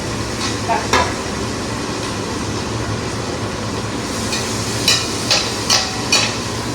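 Steady sizzle of onions frying in a pan fills the clip, broken by a few sharp metallic taps and scrapes of a utensil against the pan toward the end.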